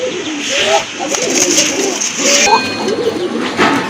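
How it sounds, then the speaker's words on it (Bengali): Domestic pigeons kept for sale coo repeatedly, soft low throaty calls recurring in short bursts close by, with faint background chatter and noise. "অনেক ভালো ডাকে কবুতরগুলো"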